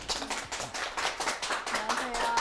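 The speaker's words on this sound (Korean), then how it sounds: "이종호 박사님을 큰 박수로 자리에 모셔볼게요" A studio audience at a Korean lecture show breaks into steady, dense applause, loud and close for a couple of seconds.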